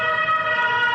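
A steady, loud ambulance siren holds a wailing tone for a brief moment as it passes, its pitch dropping with the Doppler effect, with traffic rumble underneath.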